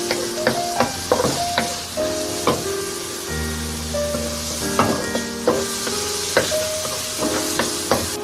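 Onion frying in extra virgin olive oil, a soft steady sizzle broken by repeated sharp clinks and scrapes of a utensil stirring in the pan, with tonal clatter between strokes.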